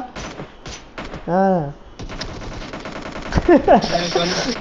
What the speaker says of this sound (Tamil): சுடுங்கடா எல்லாம் நாலு பேரும் ஒரு நிமிஷம் சுடுங்க